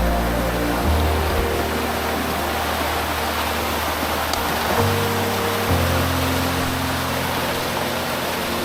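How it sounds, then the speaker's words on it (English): Water rushes over waterfalls along a creek in a continuous broadband roar, with an engine-like low hum shifting in steps underneath and no speech. "it's just waterfall after waterfall in here"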